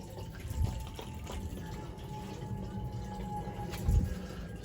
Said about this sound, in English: See, we're sucking water out of the tank.